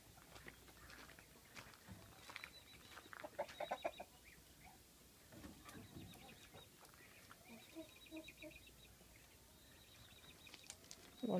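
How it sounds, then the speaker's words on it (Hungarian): Chickens cluck softly on a farm in Dominica, scattered faint clucks and calls over low ambient background, with occasional brief wing flaps. "Vannak tyúkok,"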